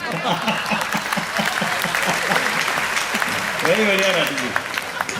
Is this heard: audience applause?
yes